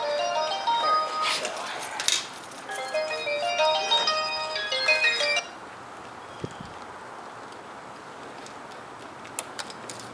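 A phone ringtone plays a bright melodic chiming pattern for about five seconds, then stops, in a garage during a cold air intake install on a Camaro, followed by faint clicks and background noise.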